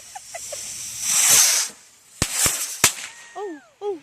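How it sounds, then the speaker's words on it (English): A small firework lit outdoors goes off with a hissing fizz, then a few sharp cracks and pops close by, followed by short whistling squeals; no one talks over it. "You lit a firework."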